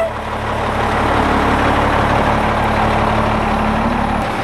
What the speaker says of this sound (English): This thing just got run over by a semi truck.